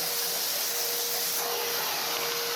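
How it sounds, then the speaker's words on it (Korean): A vacuum cleaner sucks coffee chaff out of a coffee roaster's chaff compartment, giving a loud, steady, airy whine that runs unbroken with no talking. "체프를 청소기로 이용해서 먼저 빨아주는 식으로 하고"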